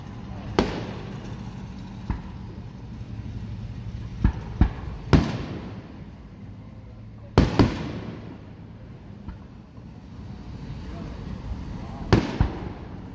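Fourth of July fireworks bursting outdoors, a handful of sharp booms and cracks spaced irregularly, some loud and close with lingering rumble, others fainter and distant, over quiet ambient noise.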